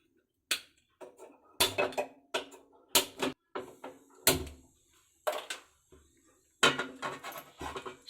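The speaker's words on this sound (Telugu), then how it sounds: "స్టవ్ వెలిగించి గిన్నె పెట్టానమ్మా." A stove being lit and a cooking pot set on it in a home kitchen, a series of sharp metallic clanks and knocks at an uneven rhythm, close and fairly loud with short quiet gaps between.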